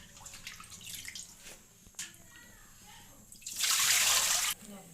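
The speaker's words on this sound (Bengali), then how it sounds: "এবার শাকটিকে ভালো করে ধুয়ে নেব।" A bunch of spinach leaves gets washed under running water, with a loud burst of splashing and pouring late on after quieter handling and some talking.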